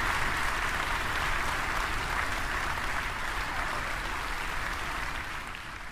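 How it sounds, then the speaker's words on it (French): An audience applauds loudly and continuously throughout, a dense even clatter of many hands that eases slightly at the end. "Tonnerre d'applaudissements."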